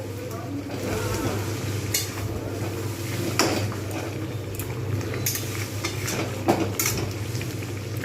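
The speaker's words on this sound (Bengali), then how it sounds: "এরকম করে ভালো করে কষাবো।" Chicken being stir-fried (kosha) in a pan for coriander chicken, with steady low sizzling and repeated scraping and clinks of a spoon against the pan, close and continuous.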